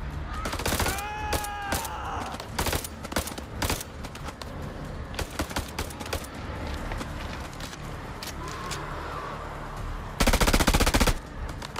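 AK rifle gunfire in the video game House of Ashes cracks in sharp single shots and rapid bursts, loud and close, ending in a long sustained automatic burst.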